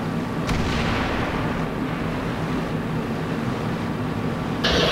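Artillery fire in the tank battle game World of Tanks, played as Clan Wars, comes as a sustained heavy rumble with a sharper blast near the start and another toward the end; no one speaks.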